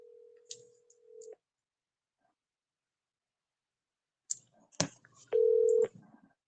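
Telephone line tones on a call: a steady tone cuts off, brief clicks and a short thump follow after a silent gap, then a loud, clean tone burst sounds near and alone.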